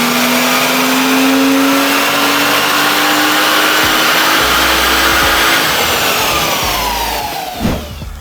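Tuned Osprey OP700 car engine at high power, a loud, sustained rising wail that climbs steadily in pitch, then drops off sharply near the end as the throttle closes.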